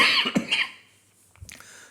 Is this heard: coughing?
yes